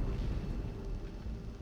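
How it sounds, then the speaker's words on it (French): An explosion in the Planetbase colony-building video game comes through as a steady, deep rumbling roar that stays fairly even for just under two seconds, with no voices over it. "J'ai entendu une explosion."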